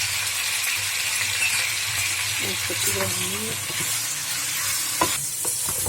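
Ground cumin, red chillies and other spices frying in a pan for chicken degi korma, giving a constant close sizzle broken by a few scraping stirs and one sharp clink near the end.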